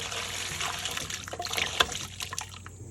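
Water is poured into a clear tube set up to mimic a flushing toilet and an RV black tank, giving a steady close-up trickling and splashing that swells and fades over a few seconds without talk.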